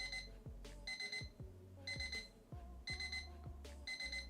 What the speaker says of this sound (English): That was my alarm to say I'm done.